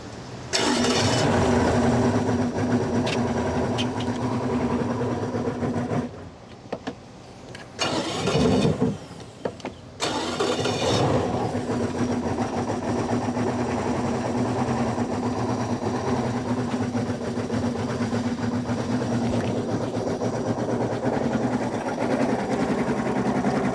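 Yamaha 300 HPDI outboard engine running on a flush hose during an impeller and water pump change, a steady close mechanical drone with water splashing, briefly dipping and surging before settling back into an even run.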